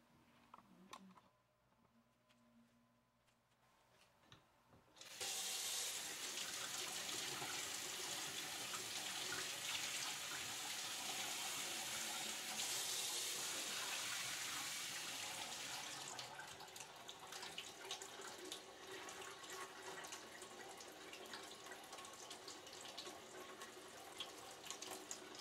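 Tap water gushes steadily and loudly after a quiet start, splashing over a Brita Marina water filter cartridge held beneath the stream, with no talking.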